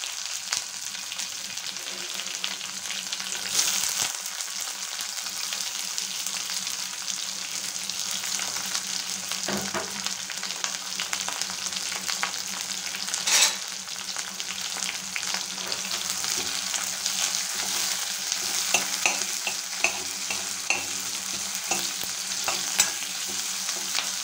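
Finely chopped onion frying in a pan for an aratikaya and green peas curry, a steady close sizzle with occasional stirring scrapes running throughout, no voices.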